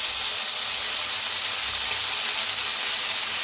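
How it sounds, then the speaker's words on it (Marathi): Cluster beans roasting with asafoetida in a hot pan give off a steady, close sizzle, an even hiss that runs unbroken and alone for the whole stretch. "थोडीशी हिंग आणि गवारी भाजून घ्यायची आहे।"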